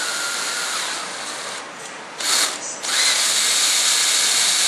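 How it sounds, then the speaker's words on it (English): A power drill whines steadily and loudly up close, drilling out stoppers for an F-14 Tomcat model build, with a brief dip in pitch midway before the whirring resumes. "all I got to do is drill these out"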